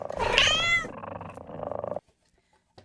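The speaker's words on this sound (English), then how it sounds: "Kitty." A cat lets out a loud, close meow, then a rough rolling purr-like trill continues for about a second before stopping abruptly into near silence.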